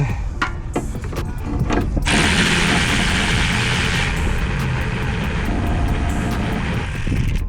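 Ratchet wrench on the rear brake caliper bolts of a Honda Pilot, with a few sharp clicks early on, then a steady loud mechanical whir and rattle that runs continuously up close.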